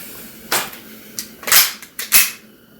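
An Umarex Glock 17 trainer pistol, gas-powered and firing rubber balls, cracks off four or five sharp, loud shots at irregular spacing, close by with no talk.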